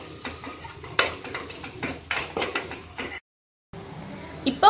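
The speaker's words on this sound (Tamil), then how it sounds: "அடுத்து நம்ம சின்னதா கட் பண்ணி வச்ச வெங்காயம் சேர்த்துட்டு இதையும் சாட்டே பண்ணிரலாம்." Chopped onions go into a pan and are stirred while sautéing for mushroom pasta, giving clinking utensil scrapes and light sizzling, close and uneven, with a short silent gap near the end.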